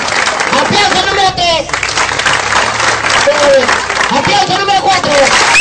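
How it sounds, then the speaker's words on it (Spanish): An audience at a live comedy show gives a contestant sustained, dense applause, with cheers and whistles scattered across the clapping and voices shouting within the crowd noise. "¡Aplausos al número tres!"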